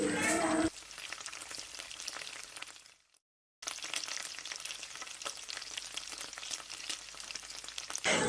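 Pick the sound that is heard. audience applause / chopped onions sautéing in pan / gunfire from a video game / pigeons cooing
chopped onions sautéing in pan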